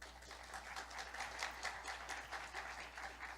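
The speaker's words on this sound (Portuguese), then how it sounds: "Podem aplaudir." Applause from a symposium audience on oral cancer prevention and treatment, a steady moderate patter of many hands lasting throughout, fairly distant and even in level, with no voices over it.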